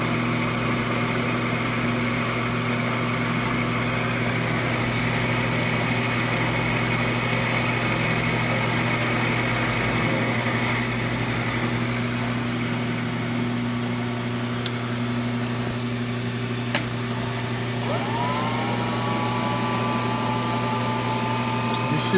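Milling machine taking a shallow 10-thou cut with a 3/8 inch cutter at a slow feed while repairing a trailer tongue mounting bracket, a steady, even machine hum with a faint whir throughout.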